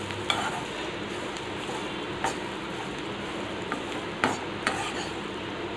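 Horse gram powder being stirred into a gravy in a pan, a steady scraping stir over a soft sizzle with occasional sharp utensil clinks against the pan.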